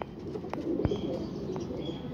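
Soft cooing of a group of about a dozen pigeons, fairly close, with faint chirps and rustling over a steady low background.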